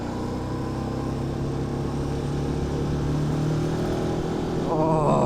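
A 180 hp KTM 1290 Super Duke R motorcycle ridden on a wet road in second or third gear, its engine droning steadily and close, with the pitch climbing as it revs up near the end.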